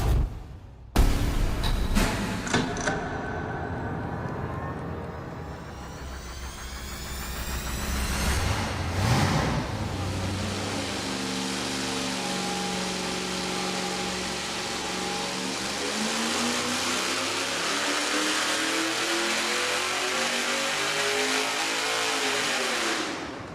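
A V8 engine on a dyno with small headers fires up after a brief crank, then runs loud and steady and climbs through a long, sustained rev-up to full load.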